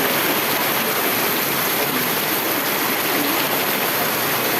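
Dense, steady hiss of heavy rain pouring without pause in Gentri Homes, loud and close, like water rushing down.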